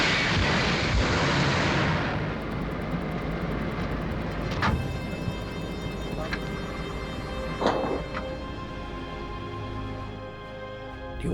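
Torpedo explosions striking the destroyer Reuben James in wartime, a heavy roaring blast that fades into rumbling, with several sharp bursts and crackles over a sustained low roar.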